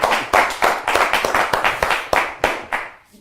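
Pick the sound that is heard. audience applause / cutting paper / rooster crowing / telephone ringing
audience applause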